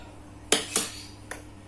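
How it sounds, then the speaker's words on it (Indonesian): A spoon clanks against a pan while chili paste is stirred, giving three sharp metallic knocks, the last one fainter, with no talking. "Kita kacau, kita aduk-aduk."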